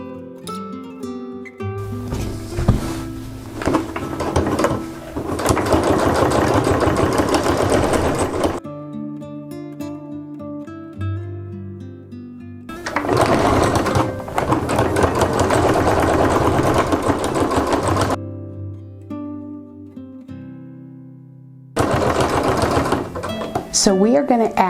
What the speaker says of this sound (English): I'm going to be stitching on this side